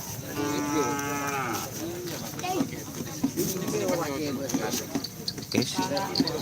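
Cattle moo loudly and repeatedly at a morning bull race practice, with long drawn-out lowing calls over a bustling outdoor crowd and people talking throughout.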